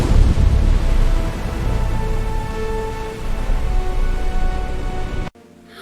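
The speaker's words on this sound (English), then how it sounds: "That storm looks big." Heavy rain pours steadily in a jungle thunderstorm, a dense broadband hiss with low rumbling underneath, loud and constant before cutting off abruptly near the end.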